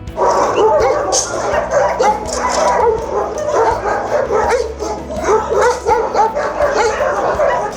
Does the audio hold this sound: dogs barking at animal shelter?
yes